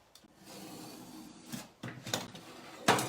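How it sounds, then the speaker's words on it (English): A utility knife scoring and snapping a scrap piece of sheetrock, several short dry scraping strokes and rasps separated by pauses, close and fairly quiet, ending with a sharper, louder scrape, no voices. "We'll cut ourselves a little scrap sheetrock. Again, score the front."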